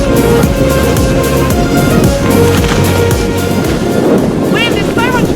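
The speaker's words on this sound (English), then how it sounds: "Wind is so much fun, isn't it?" Wind gusts buffet the microphone while a tent is pitched outdoors, a loud rumbling rush that stays up throughout, with a voice talking over it and brief squeaky tones near the end.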